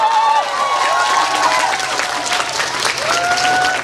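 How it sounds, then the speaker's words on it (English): Loud applause and cheering from a crowd at an award ceremony in Assam, dense clapping with whoops and high shouted cheers rising over it, sustained and close. "Give him a big applause."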